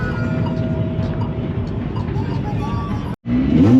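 Ford Mustang Mach 1 drag car staging at New England Dragway, a loud rumbling engine idling and burbling close by, cutting out for a split second before the roar resumes, with crowd noise in the background.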